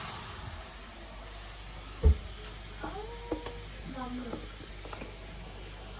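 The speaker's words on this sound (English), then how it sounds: "they're still playing with the cat" A playing cat gives a few short, faint meows and chirps over a constant kitchen hiss from breakfast frying on the stove, with a single sharp knock early on.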